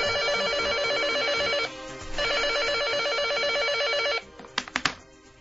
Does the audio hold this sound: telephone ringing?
yes